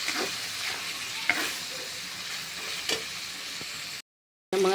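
Onion, garlic, tomato and ginger sauté in a pan with a soft, steady sizzle and a few scraping stirs, fairly faint, followed by a short silence and then a louder burst.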